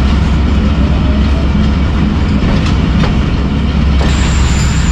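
A private Badar Express passenger train runs loud and steady with a continuous rumble and faint clatter of the cars, no speech.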